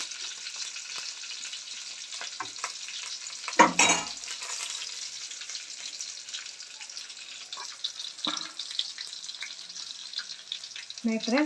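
Curry leaves fry in a hot buttermilk sambar tempering with a steady sizzle, broken by a louder splatter burst and a few scraping stirs; close and alone.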